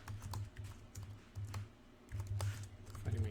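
Rapid, uneven keystrokes clatter on a computer keyboard during a coding session, arriving as clustered bursts of sharp clicks with brief pauses, close and fairly loud with no talking.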